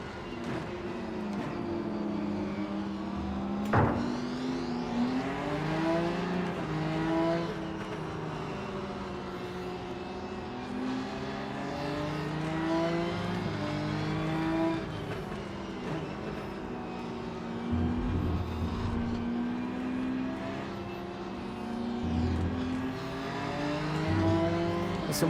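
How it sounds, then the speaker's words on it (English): Race cars lapping the Nurburgring in the Rennsport racing game, several engines droning and rising and falling in pitch together, a continuous layered whine with shifts as nearby cars accelerate. "Some weird sounds coming from the other cars."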